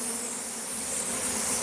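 A dense swarm of killer bees buzzes around a pear tree in a loud, continuous, close drone that holds steady throughout with no voices.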